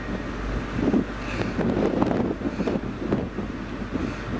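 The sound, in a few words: wind picking up at sea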